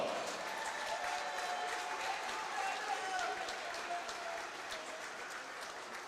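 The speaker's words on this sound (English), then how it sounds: "How about a round of applause for the Jonesboro Bulldogs?" A gym crowd applauds the Jonesboro Bulldogs during pregame introductions at a high school basketball game, with steady, moderately distant clapping and crowd murmur that eases slightly toward the end.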